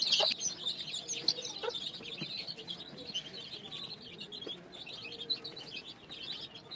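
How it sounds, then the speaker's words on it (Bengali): Backyard chickens just given Ranikhet vaccine drops, clucking and chirping in a steady, busy chorus at close range with small birds tweeting alongside; no one speaks. "মুরগিগুলো এখনো সুস্থ আছে।"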